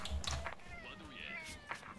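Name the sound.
cat meowing in the video game Strike Force 2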